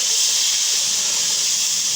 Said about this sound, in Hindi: ये गर्म पानी मैंने डाला है इसमें